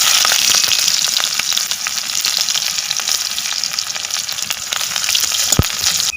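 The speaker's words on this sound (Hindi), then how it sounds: "एबे प्याज पकई देबा।" Chopped onions fry in hot oil in a kadai for a village-style sea-fish curry, giving a loud, steady close sizzle with scattered crackles and one sharp knock near the end.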